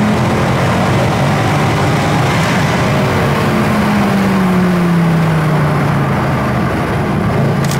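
A 6.2-litre V8 car engine runs steadily and loudly throughout, a dense low rumble with a slowly shifting drone, heard up close with no talking.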